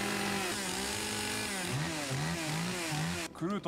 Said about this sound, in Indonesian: Iwao menyalakan gergaji mesinnya